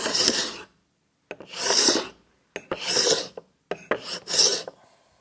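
Stanley No 12 cabinet scraper drawn across wood in four separate strokes, each a bright, raspy scrape lasting about a second, with short quiet pauses between them, close and fairly quiet.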